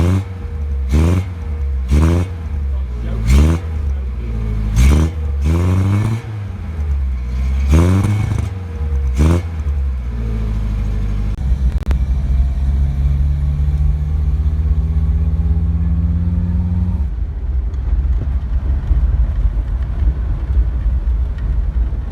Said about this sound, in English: I'm going to take a wild guess that you'd quite like to hear what that engine sounds like.